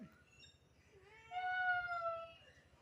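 A cat lets out a single quiet, drawn-out meow that rises and then falls, heard close up against a soft, low background hum.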